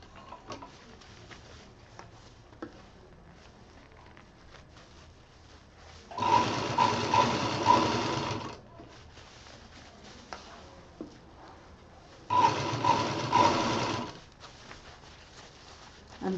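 A sewing machine stitches a round fabric bag for kids in two bursts of steady running, each about two seconds long, with quieter handling noise between them and no talking.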